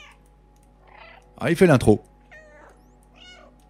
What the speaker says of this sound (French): On va le faire miauler un petit peu quand même.